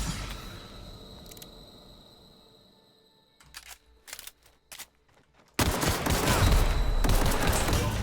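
Gunfire from the video game The Outer Worlds: a quiet stretch, then several short, sharp shots, followed by a loud, sustained burst of heavy firing.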